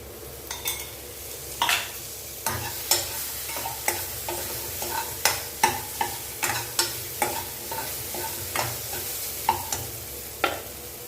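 Tomatoes and ginger-garlic paste being sautéed in a pan, with a constant low sizzle under regular clinking scrapes of a spoon against the metal, close up and moderately quiet.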